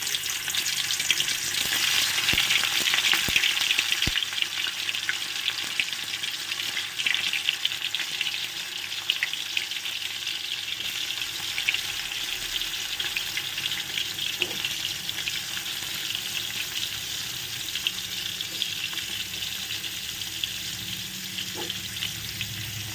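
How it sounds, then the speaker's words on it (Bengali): Cauliflower florets frying one by one in very hot white oil over a full high flame. A loud, steady, close sizzle runs unbroken throughout, with no talking. "তো এক এক করে ফুলকপিগুলো ভেজে নেব।"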